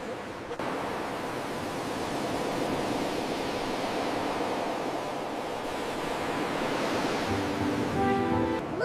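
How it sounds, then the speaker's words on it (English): Ocean waves washing onto a beach, a continuous broad roar of surf that swells slightly toward the end, close and loud with no talking. "Look at the waves, Buddy."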